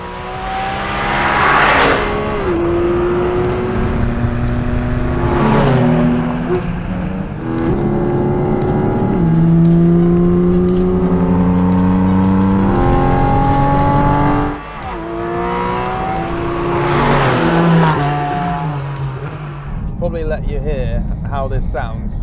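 A Porsche GT4RS engine climbs through its rev range in repeated loud, high-pitched sweeps, each upshift cutting the pitch before it rises again, heard from inside the car with occasional voices over it.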